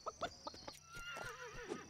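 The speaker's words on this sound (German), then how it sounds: "Warte mal, wo ist eigentlich mein Pferdchen?" A horse in the Lego City Undercover video game gives a bright, wavering neigh, with a few clip-clop hoof sounds before it, heard faintly at a low level.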